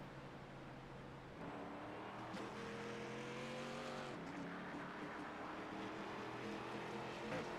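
A damaged NASCAR race car in a Daytona racing video game runs with a droning engine whose pitch rises and shifts, loud and continuous against steady track noise.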